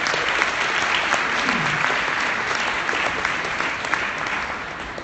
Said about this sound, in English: That was already your warm applause to the brilliant panelists.